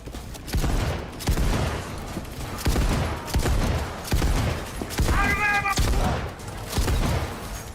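Repeated bursts of automatic gunfire in the video game Cyberpunk 2077, loud and near, coming in a steady rhythm of short volleys with brief gaps, while voices talk over the shooting.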